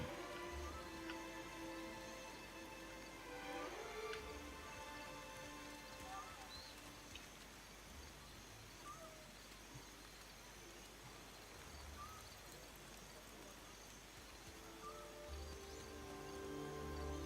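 Rain falls in the video game Pillars of Eternity II: Deadfire as a soft, steady hiss with faint droplet patter, continuous throughout, with quiet sustained tones beneath.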